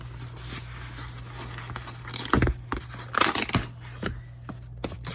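A mailed subscription box package of crime classic books is opened up close, with rustling, tearing and crinkling of packaging in short bursts of handling against a low steady hum.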